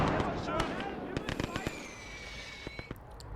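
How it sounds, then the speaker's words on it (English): Artillery fire from a 155 gun in a WWII video game, a series of sharp booming shots and blasts with whistling shells over a rumbling battlefield background, with a voice talking underneath. "let's give that artillery something to do"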